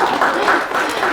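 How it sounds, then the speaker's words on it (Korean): Audience applause in a lecture hall, a brief burst of dense clapping that fills the moment and then cuts off. "박수 쳐주세요."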